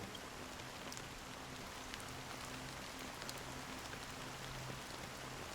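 Steady rain falls in a video game scene, a soft even hiss with scattered droplet ticks over a faint low musical hum, quiet and continuous with no voices.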